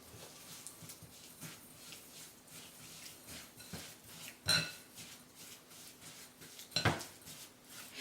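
A spoon clinks and scrapes against a bowl while golden syrup sugar cookie dough is mixed, soft irregular stirring taps with a couple of sharper knocks, faint and close.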